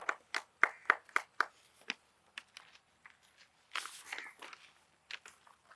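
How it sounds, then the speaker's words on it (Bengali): Quiz competition audience at a medical college clapping in short bursts, a quick run of sharp claps followed by scattered, fainter applause that swells briefly again before trailing off. "আর একবার জোরে হাততালি হয়ে যাক।"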